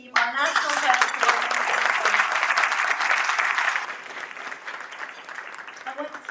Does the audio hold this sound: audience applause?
yes